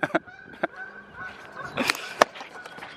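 A goose in a church parking lot honks several times in short, sharp bursts at close range against a quiet outdoor background.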